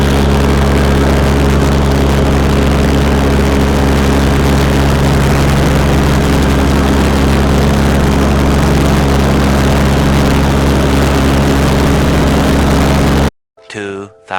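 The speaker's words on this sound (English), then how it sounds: "Good sitting on that tractor." Steady, loud, low-pitched droning of a tractor engine running while mowing a big pasture, unbroken for most of the clip before cutting off abruptly as a voice speaks briefly at the end.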